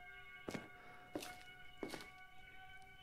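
Three evenly spaced dull knocks in the Home Alone video game, each a heavy thud with a quick double hit, faint against a steady humming background.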